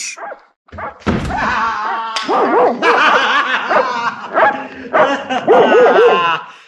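Dogs bark repeatedly in a loud, close, agitated burst, with yips and whimpering mixed in, in a tense indoor scene from a stage drama.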